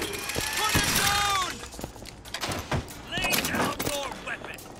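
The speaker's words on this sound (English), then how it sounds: "It's basically the machine gun from earlier" Rapid machine gun bursts in Bioshock Infinite, a low-recoil automatic weapon, rattling off in several loud volleys with whooshing and shouting game voices mixed between the bursts.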